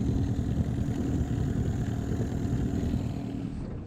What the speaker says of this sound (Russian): Завели наш моторчик и поедем искать рыбку дальше.